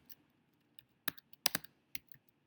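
Several separate clicks from typing on a computer keyboard, with a few single keystrokes and then a short cluster of sharp taps, clear and close in an otherwise quiet room.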